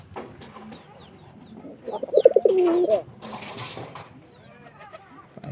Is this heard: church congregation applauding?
no